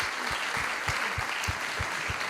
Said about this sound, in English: Can we give them a warm round of applause and thanks?